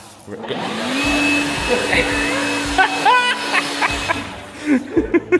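A powerful handheld blower runs steadily on its turbo setting, a loud continuous whine, with faint laughter and brief voices near the end.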